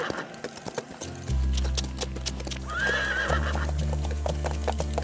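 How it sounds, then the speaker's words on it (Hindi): A horse gives a clear, loud whinny midway while hooves clip-clop in a steady rhythm close by. A low drone runs underneath. "एक काम करो चरणदास, इसका सैडल वगैरह सब उतार के इसे बाहर ले आओ खुली हवा में।"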